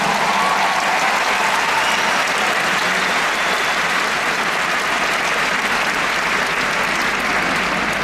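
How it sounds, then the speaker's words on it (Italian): Steady, dense applause from a concert audience at a live show in Rome, loud and sustained throughout with no break or talk over it. "Vai, un applauso."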